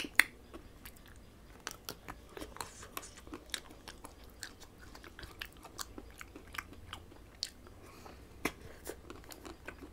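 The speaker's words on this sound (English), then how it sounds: "Now guys, it's time for the almond crunch." Crunchy almond topping on butterscotch caramel papaya ice cream being chewed close to the mic, a steady run of sharp crisp bites and crunches over soft mouth sounds, with no talking.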